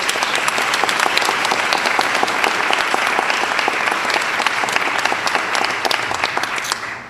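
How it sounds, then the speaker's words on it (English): Audience at an education donation event breaking into loud, sustained applause, a thick wash of clapping from many hands that carries evenly before tapering slightly at the very end. "Give yourselves a big round of applause."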